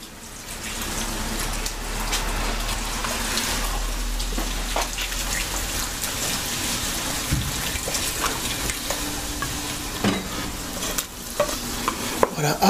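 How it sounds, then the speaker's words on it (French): Cider poured into a pan of chicken frying over medium heat, setting off a steady, close sizzle and crackle with scattered pops and stirring sounds throughout. "Et j'ajoute le cidre."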